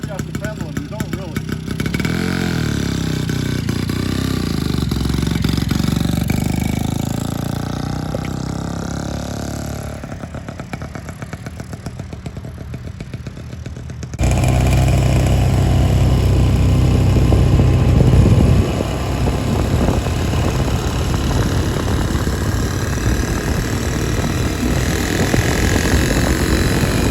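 A restored 1950 New Hudson Autocycle's small engine runs during a ride, a steady mid-pitched putter that dips quieter midway and then returns louder and rougher as the machine moves on.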